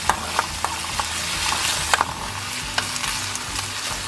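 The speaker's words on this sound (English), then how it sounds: "Quickly fry it off a little bit." Chopped onions, ginger, garlic and cardamom pods frying quickly in a pan: a continuous bright sizzle with several sharp taps and scrapes of a spoon against the pan, no talking.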